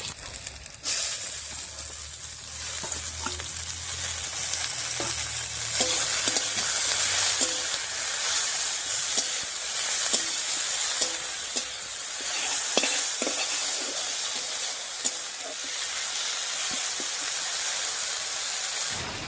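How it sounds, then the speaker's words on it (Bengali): Thankuni leaves are stir-fried in a pan with fried onion, garlic, chilli and nigella seeds, giving a steady loud sizzle with repeated scraping stirs and spatula knocks throughout. "থানকুনি পাতাটা দিয়ে সবকিছুর সঙ্গে খুব ভালো করে মিশিয়ে নিয়েছি"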